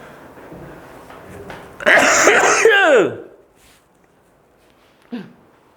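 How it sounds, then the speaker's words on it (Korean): A burst of harsh coughing and throat clearing, loud and close, lasting about a second, followed by quiet and a short faint sound. "마이크 차고 기침하면은 사람들 깜짝 놀라겠는데?"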